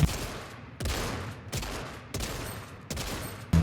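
Fortnite gunfire: five sharp bursts of shots at a roughly even rhythm, each followed by a short decaying tail, close and fairly loud.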